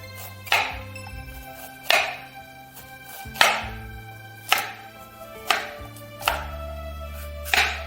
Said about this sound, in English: Peel and cut ginger, garlic, apple, pear,